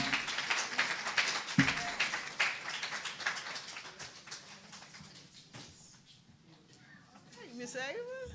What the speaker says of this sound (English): Can we give Ava another round of applause?